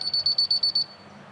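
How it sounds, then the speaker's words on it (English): Laser level receiver for setting grades beeping rapidly, six short electronic beeps in quick even succession, loud and close, then falling silent. "when the receiver is reading the laser level, it beeps. Okay, a fast beep means you have to go down."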